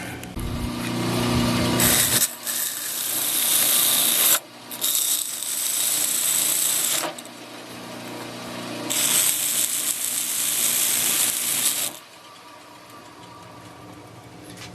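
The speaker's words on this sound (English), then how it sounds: "I'm going to take this over to the scroll saw now and we'll cut this out." A scroll saw cuts quarter-inch birch plywood for a decorative wooden tulip plant, its high, buzzy reciprocating whine running in long bursts with short pauses between cuts, close and steady with no talking.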